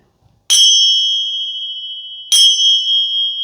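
A bright bell rings twice, each strike clear and close, its tone lingering and slowly fading before the second ring.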